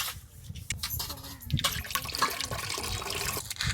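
Tamarind dissolved in water by hand at a beachside stall in Dhanushkodi for a fish curry, close splashing and squelching water with irregular sloshes and drips.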